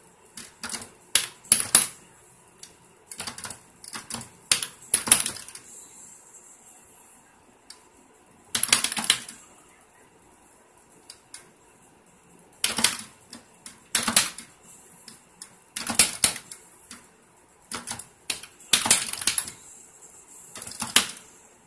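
Arcade stick buttons mashed hard while playing Galo Cego, heard as bursts of sharp plastic clicks in irregular clusters separated by short pauses, close and alone with no talking.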